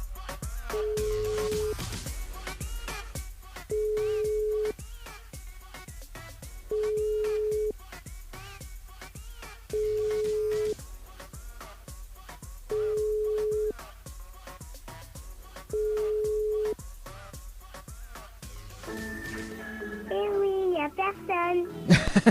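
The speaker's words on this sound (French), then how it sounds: "on appelle Lorraine sur le jeu" Unanswered telephone call placed during a live radio show game, with six evenly spaced ringback tones repeating every three seconds over a faint music bed, ending in a brief burst of answering-machine sound.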